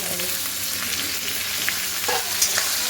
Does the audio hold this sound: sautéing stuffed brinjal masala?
yes